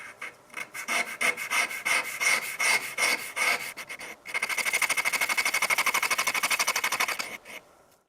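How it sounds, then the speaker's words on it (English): A cutting blade edge for a micro-manipulator is filed by hand in a string of dry rasping strokes, slower and spaced at first, then a fast, even run of quick strokes before stopping. "The edge should be sharpened to an angle of roughly 30 degrees."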